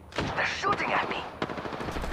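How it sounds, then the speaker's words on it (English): Gunfire in the game Apex Legends crackles in quick, dense bursts at close range, heard briefly amid other game sounds. "They're shooting at me."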